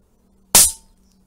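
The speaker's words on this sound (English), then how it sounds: "Let's fire another one, see what it says." An electronic Daystate Air Wolf air rifle fires a single pellet: one sharp, close crack that stands alone in silence and decays quickly.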